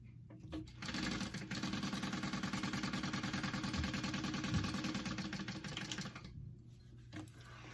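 A sewing machine runs steadily for about six seconds, stitching a second row along a fabric clutch, its rapid mechanical chatter close and continuous before stopping abruptly, with a brief start and a final clunk.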